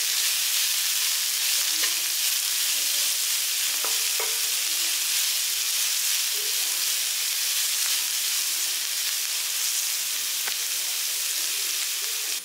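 Chopped vegetables sautéing in a pan for a millet dish, with a continuous broad hiss of frying and a few faint utensil clicks against the pan.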